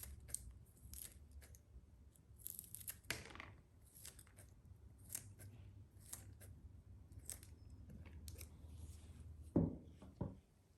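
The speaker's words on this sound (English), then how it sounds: "As you cut, the smaller you cut the pieces, the better your results will be." Plant leaves are snipped into small pieces for chlorophyll chromatography, a quiet series of short, irregular scissor cuts close by with light clicks and a louder snip near the end, no talk.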